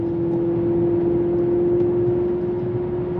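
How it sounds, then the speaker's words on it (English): Cabin of a 2015 Maserati GranTurismo while driving: a smooth, steady engine drone with a strong sustained hum, heard close from inside without talk. "The car sounds amazing."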